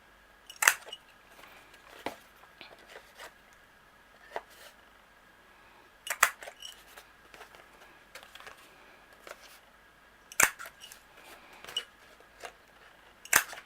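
A corner punch on paper card gives sharp, crisp snaps in small clusters, roughly every two to four seconds, close and clear against near silence.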